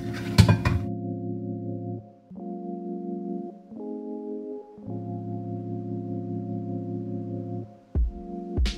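Egg being beaten into butter and sugar in a bowl, heard as a steady, close electric-mixer-like whine that shifts pitch several times, with brief clatters at the start and near the end.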